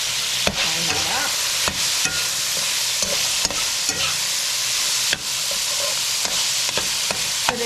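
Long beans (bora) fry with shrimp, garlic, scallions, celery and pepper in a hot pan, a steady loud sizzle broken by repeated scrapes and clacks of stirring.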